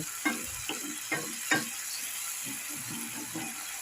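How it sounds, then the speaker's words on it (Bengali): A wet paste of ground coriander, cumin, chili and turmeric fries in oil for a fish curry, giving a steady soft sizzle with a few spoon scrapes and stirs near the start, then quieter pan noise. "এখন বেশ খানিকক্ষণ এটা কষে নিতে হবে যতক্ষণে তেল ছাড়ছে"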